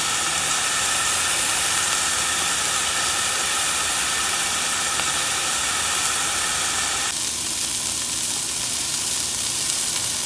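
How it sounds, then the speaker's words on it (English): A steak sears in a super hot pan, a loud, continuous hiss and sizzle that holds steady for the whole stretch, easing slightly toward the end, with no talking. "I say 3-4 minutes on each side should be perfect with a super hot pan"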